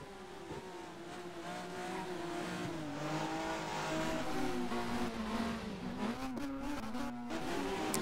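Super Touring cars race at Snetterton, England, their engines roaring loudly and continuously as the pack passes, with pitch shifts and revs rising and falling through the whole stretch.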